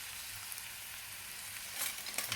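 Tomato goes into a pan of frying chili, producing a soft, steady sizzle with a brief crackling burst near the end.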